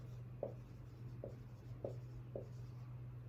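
Marker or chalk scratching on a classroom board, with about five short, distinct strokes at regular intervals over a low steady room hum; no talking.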